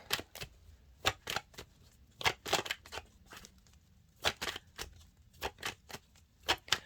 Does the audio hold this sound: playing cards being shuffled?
yes